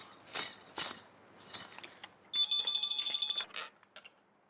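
A short electronic phone ring tone trills for about a second, following a few sharp clicks and taps, fairly close with no one talking.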